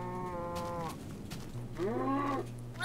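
A cow in the video game Survival Island moos twice, each a drawn-out, low lowing call with a brief pause between them, with no talk over it.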